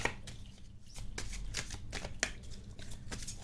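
Divination cards are handled and drawn from a deck, giving soft, quiet riffles, slides and light taps in an uneven rhythm, close but faint, with no speech.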